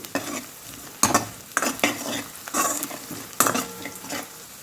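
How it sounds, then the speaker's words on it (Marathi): Turmeric and onions frying in oil are stirred with a spoon, bursts of sizzle and scraping rising and falling in irregular strokes over a quieter hiss, close and fairly loud, with no speech. "हळदी आपण फ्राय करून घेऊ"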